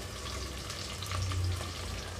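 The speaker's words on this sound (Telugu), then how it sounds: "ఉల్లిపాయలు లైట్గా కలర్ మారేటప్పుడే ఇందులో అల్లం వెల్లుల్లి పేస్ట్ కూడా వేస్తున్నాను" Onions frying with ginger garlic paste for coconut milk mushroom biryani, a dense, even hiss of oil with a low steady rumble underneath, close and continuous with no distinct stirring strokes or voices.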